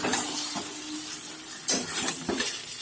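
Chicken pieces stirred in a hot pot for Bengali chicken kosha, sizzling steadily with a spoon scraping and clinking against the metal at intervals, close and fairly loud.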